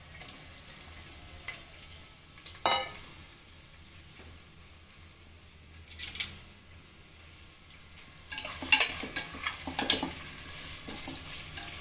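Onions added to three tablespoons of hot oil in a pan, cooking red amaranth pulusu: a steady low sizzle, with bursts of louder crackling and stirring, the loudest stretch near the end, and no talking.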